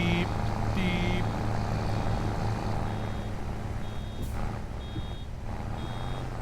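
A truck in Farming Simulator 25 sounds its reversing alarm, a regular series of high electronic beeps over a steady rumbling engine.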